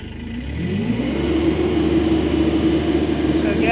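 A Kubota SCL1000 mini rubber-track skid steer loader, a 2025 model, starts up and its engine rises to a steady, loud running drone close by, with a rising tone in the first second.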